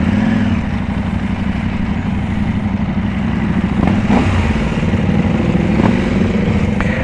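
KTM Duke 790 motorcycle engine hums steadily at a low, throbbing idle to light revving, close and loud, with a few faint clicks over the drone and no speech.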